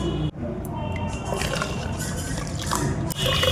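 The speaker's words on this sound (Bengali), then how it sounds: "এই পুরো দুধটা এখন এই হাঁড়িতে ঢেলে" Milk poured from a wok into an earthenware clay pot while making sweet curd, a steady, close liquid rush with a brief break near the start and soft dripping, squishy texture throughout.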